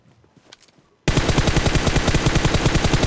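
Automatic gunfire in the mobile shooter game PUBG Mobile erupts after a quiet second, a loud, rapid, continuous burst of shots with steady rhythm.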